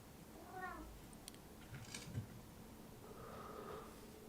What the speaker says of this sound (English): Cat's going crazy.